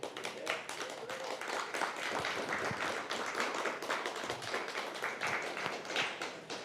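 Audience applause fills a conference hall at HiveFest 2023 in Rosarito, Mexico, a dense, steady wash of many hands clapping at close range for the whole stretch, with some voices mixed in.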